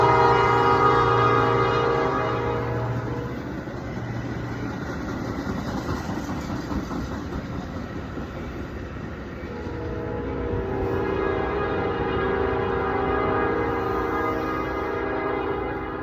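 A train rumbles past nearby, its engine droning heavily while a long horn blast sounds at the start. The steady mechanical roar swells and shifts for over fifteen seconds, with no voices.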